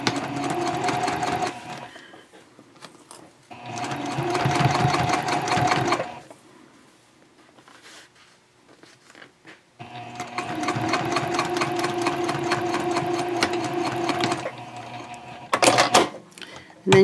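A domestic sewing machine bastes the edge of a messenger bag panel at stitch length 3.0, one-eighth inch from the edge, with a backstitch. It runs in three steady whirring bursts separated by pauses, close and fairly loud.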